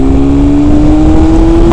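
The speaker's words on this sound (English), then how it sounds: "That bike sounds so good." Loud, steady engine drone with a strong harmonic whine from a Kawasaki ZX14R motorcycle with tuned, decatted exhaust, held near and constant through the short stretch, rising slightly at the end.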